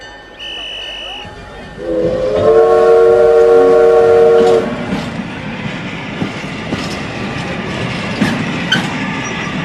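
A train sounds a loud, sustained horn blast over the rumble and clatter of moving cars, followed by ongoing rolling and rattling noise.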